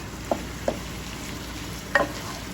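Meat kidneys frying in a masala, a low continuous sizzle with three sharp clinks of a spoon against the pan, close and without talk.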